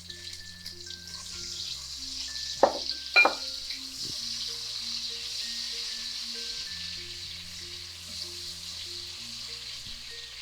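Onions sizzle in hot oil for a Ghanaian spinach and lamb stew, a steady bright frying hiss with a couple of sharp spatters early on, while tonal background music plays underneath.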